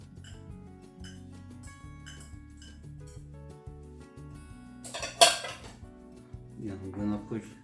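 Chopped potato and carrots go into a bowl for a Russian salad, with close clinks of cutlery and dishware, a sharper clatter midway, then soft scraping and clinking.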